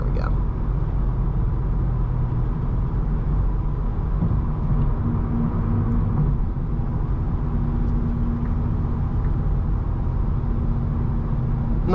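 Steady low road rumble and tire noise inside a 6-speed manual Volkswagen Golf R cruising at highway speed around 70 mph on 19-inch wheels with summer tires, a constant drone throughout.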